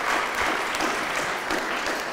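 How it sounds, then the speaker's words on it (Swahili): Applause for a judge at a Swahili school arts event at Ruthimitu mixed secondary school, a steady dense clapping from a crowd that fills the whole moment without any voice on top. "tupige makofi jaji wetu."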